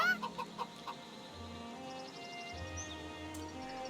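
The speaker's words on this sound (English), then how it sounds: "Ye old demonic chicken, look at the green eye." A demonic chicken in the video game Divinity: Original Sin II clucks in a few quick bursts at the start, then softer game ambience with faint tonal effects and low hums continues.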